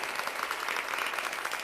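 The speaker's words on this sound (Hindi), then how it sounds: "एक बार ताली बजा करके बस शांति बनाइएगा।" A dense, continuous wash of audience applause from a large crowd, steady and fairly loud throughout, with no voices on top.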